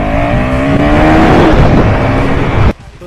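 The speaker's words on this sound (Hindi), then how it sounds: "It's finally time to ride this motorcycle. तो लेट्स स्टार्ट राइडिंग इट।" A 2024 KTM 390 Duke motorcycle pulls away hard through the gears, its engine note climbing in loud rising sweeps up close, then cutting off abruptly near the end.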